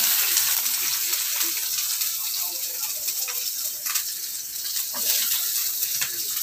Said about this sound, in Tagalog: Sunod natin sibuyas. Sote-sote lang. Halo-haloin lang. Hanggang mag-brown-brown siya.